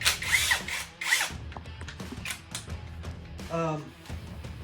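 A brushless impact driver whirs in short close bursts, with creaks and mechanical rattling between runs.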